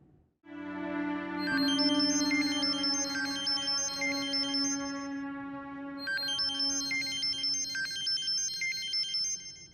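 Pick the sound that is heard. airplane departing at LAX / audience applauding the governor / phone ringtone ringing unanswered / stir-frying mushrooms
phone ringtone ringing unanswered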